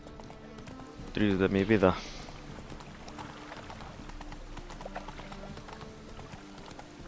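Horse hooves clip-clop at a gallop in The Witcher 3, a short burst of rhythmic hoofbeats with a whinny over game music, with someone talking throughout.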